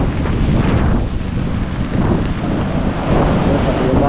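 Strong typhoon wind buffets the microphone in a loud, continuous roar over a rising, surging sea along a Philippine coast, with no clear talk over the gusts.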